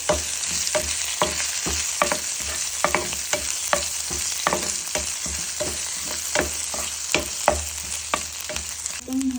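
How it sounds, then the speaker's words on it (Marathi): Garlic and ginger paste fries in oil, a steady close sizzle punctuated by regular spatula scrapes and taps against the pan. "आपण एक चमचा लसूण आणि अद्रकची पेस्ट घालू तेलामध्ये छान परतून घेऊ"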